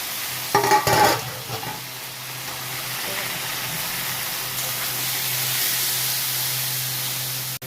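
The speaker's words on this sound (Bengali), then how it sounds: "খালি পেঁয়াজ, শুকনো লঙ্কা, নুন, হলুদ, মিষ্টি দিয়ে আমি শাক ভাজছি" Greens with onion, dried chilli, salt and turmeric sizzle and hiss steadily in a hot pan, with a brief clatter of stirring near the start.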